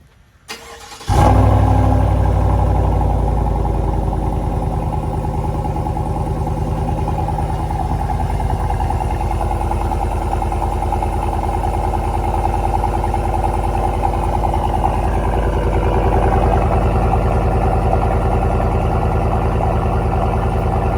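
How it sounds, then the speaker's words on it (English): First cold start of a Chevy Silverado Trail Boss 5.3L V8 with a Borla Atak crate muffler: a quick crank catches into a loud, steady, deep idle that drones on evenly and close by, with no talk. "I've got the Atak on, crate muffler, and it's time for a cold start, first cold start"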